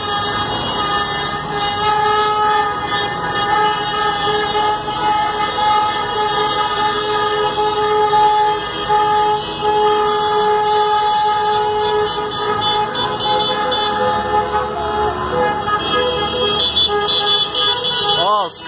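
Striking truckers' trucks drive past in a convoy with hazard lights on, horns tooting repeatedly over a steady, loud engine and traffic roar, with voices talking throughout.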